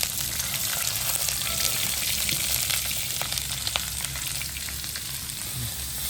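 Green chilies sizzle steadily in hot oil in a curry pan with fennel seeds and cinnamon, a continuous close crackling frying sound with small pops, no talking.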